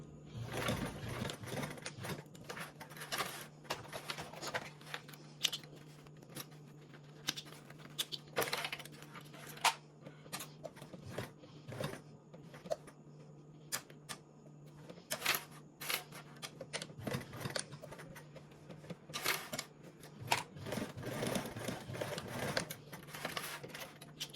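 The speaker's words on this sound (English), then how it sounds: "you're gonna go ahead and sew the other side with that 3/8 seam allowance" A sewing machine runs in short bursts and longer stretches, stitching a seam on a bag lining at a 3/8 seam allowance, its rapid mechanical whir starting and stopping repeatedly, close and fairly quiet.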